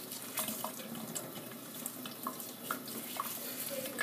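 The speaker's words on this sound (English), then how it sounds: "Just gonna turn on the water a little bit." Water runs steadily from a kitchen sink faucet, a continuous close splash and trickle with small spattering variations and no talking.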